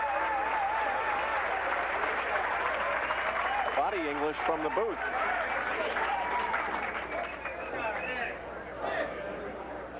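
A bowling crowd at a 1984 professional tournament applauds and cheers after a strike, a sustained wash of clapping underneath a commentator's voice that fades slightly toward the end.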